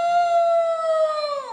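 A novelty pencil sharpener gives off a loud, sustained electronic wolf howl that holds one steady wavering tone with harmonics before bending downward and cutting off, heard alone with no talking.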